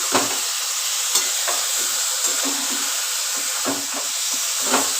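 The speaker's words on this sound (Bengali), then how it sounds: "এবার আমি ভালো করে কষাবো লাউটাকে, লাউ আর আলুটাকে ভালো করে কষিয়ে নেব" Bottle gourd and potato sautéing in a pan, a loud continuous sizzle with irregular scraping stir strokes of the spatula cutting through, close up and without voices.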